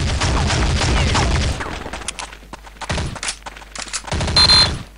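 Rapid automatic gunfire and single shots from the Counter-Strike: Condition Zero video game, loud bursts up front that drop into scattered, sharper shots and a final burst.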